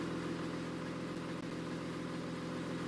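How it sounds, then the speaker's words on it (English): Cummins 8.9 diesel in a 2009 Thomas Saf-T-Liner HDX school bus in the Rigs of Rods game, settling into a steady idle: a continuous, even mid-low engine drone at moderate level, with no voices. "So there's your Cummins powering to life."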